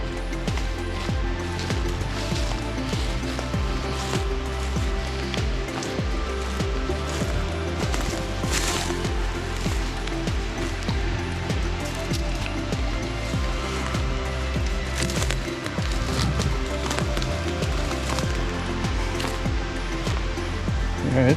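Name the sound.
creek water flowing nearby in a ravine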